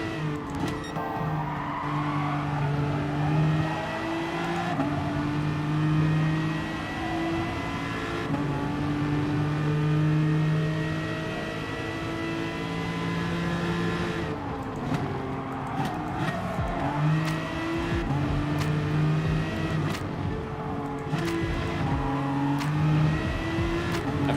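A race car engine in Gran Turismo Sport revs and drops continuously through gear changes, with rising and falling pitch, brief tire squeal on a turn, loud and close throughout with no talk.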